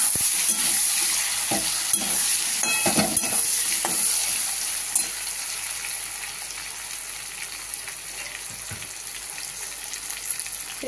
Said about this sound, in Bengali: দিয়ে দিচ্ছি আলুগুলোকে তেলে। প্রথমে আলুগুলো একটু লাল লাল করে ভেজে নেব।